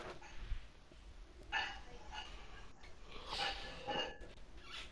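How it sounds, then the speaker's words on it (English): A dog barks and yips faintly in the background of a home where someone plays a World War II shooter game, a few scattered, distant bursts. "Where is that dog?"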